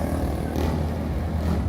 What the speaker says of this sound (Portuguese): As motos.